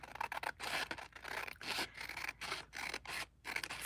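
Fabric scissors slice across linen in a series of rasping, scratchy strokes with brief pauses between cuts, close and fairly quiet, no talking.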